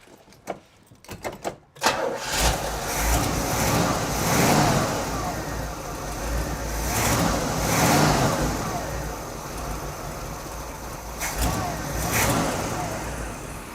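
A 1969 Buick Riviera GS V8 with a four-barrel carburetor, running after 30 years of sitting, cranks and catches, then idles roughly with a couple of revs rising and falling, close by, while people talk over it.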